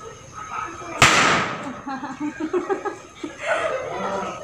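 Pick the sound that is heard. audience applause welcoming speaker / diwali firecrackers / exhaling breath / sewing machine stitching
diwali firecrackers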